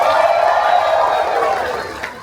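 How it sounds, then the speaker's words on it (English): An audience at a cruise game show bursts into cheering applause, a loud crowd roar with clapping that swells at first and then gradually tapers off. "the audience will burst into spontaneous applause that sounds just like this."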